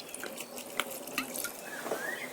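White wine pours and splashes softly into a pot of sauerkraut, with faint drips and a light trickling sound, fairly close.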